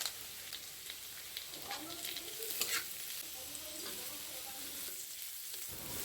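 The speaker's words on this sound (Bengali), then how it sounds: "পেঁয়াজ, কাঁচা লঙ্কা দিয়ে ভেজে নেব।" Potato, onion and green chili frying in oil, giving a quiet, steady sizzle with stirring scrapes and a few sharper clatters partway through, and no voices.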